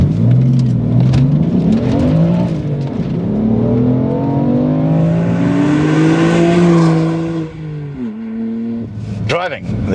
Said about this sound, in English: Driving the F80 M3.